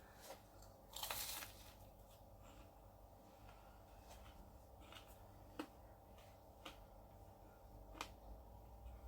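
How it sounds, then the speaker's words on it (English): Quiet crunching as a sugar-iced apple puff pastry is bitten, a loud crunch early on followed by a few softer crackly bites and chews, close up. "That sugar really does have a crunch"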